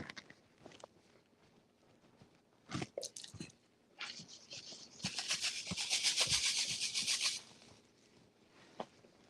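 Hands rub dry seasoning rub onto the outside of a sirloin roast, giving close scratchy rustling, a few sharp taps and a sustained gritty rubbing burst, with no talking.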